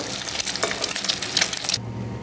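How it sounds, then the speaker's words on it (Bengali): Eggs frying in hot oil hiss and crackle loudly and continuously, then the sizzle cuts off abruptly, leaving a low hum. "দেখেন এই যে সবগুলো ডিম আমি উল্টে পাল্টে ভেজে নিলাম।"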